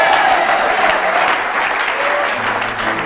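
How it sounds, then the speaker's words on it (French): A church congregation applauding steadily and loudly throughout, a dense wash of clapping with a faint murmur of voices underneath. "Acclamez-vous."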